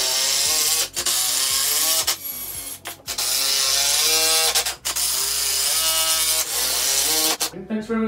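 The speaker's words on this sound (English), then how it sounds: "we can start to screw this bad boy together" A screw is driven into a wooden play structure for an early-years natural play area, giving loud, close mechanical whirring and ratcheting in long sustained runs with brief pauses between them.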